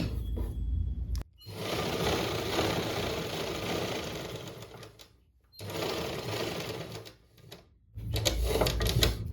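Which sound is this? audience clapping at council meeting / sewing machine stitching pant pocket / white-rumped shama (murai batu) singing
sewing machine stitching pant pocket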